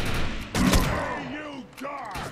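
A double-barrel shotgun in the game Defiance fires one heavy, close blast, followed by someone talking over a low background.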